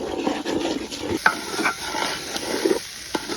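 Rice frying in a pot of beef broth for tehari, stirred continuously with a close, steady sizzle and occasional scraping knocks of the spoon.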